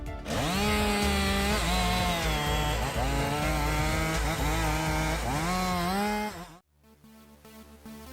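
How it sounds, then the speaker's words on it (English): A chainsaw cuts firewood resting on a BLS-3H sawhorse, roaring loud and close with its pitch dipping and rising under load before cutting off abruptly near the end. "Its smart frame design ensures that the chainsaw only touches the wood, preventing damage to both the saw and the sawhorse."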